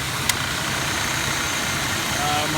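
A 1993 Buick Roadmaster engine idles after a cold start with a steady, low, even rumble up close, while a person talks over it.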